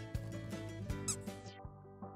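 A rubber squeaky dog toy in the video game Animal Shelter Simulator is squeezed repeatedly, giving rapid high-pitched squeals over a steady low hum, with a few soft thumps.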